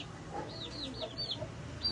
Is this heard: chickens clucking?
yes